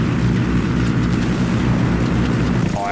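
Helicopter flying in the video game Ghost Recon Wildlands, a steady loud rotor and engine drone filling the whole stretch without pause.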